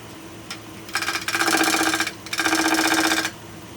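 A wood lathe spins a cherry hollow form at 1500 RPM, giving two bursts of rapid, buzzing, chattering noise over a steady low hum, each lasting about a second, close and moderately loud.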